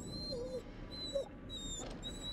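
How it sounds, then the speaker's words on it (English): A puppy whimpering in the horror game The Devil in Me, a few faint, thin high whines and short yelps at a distance over a quiet, low ambient hum. "Like the puppy whimpering."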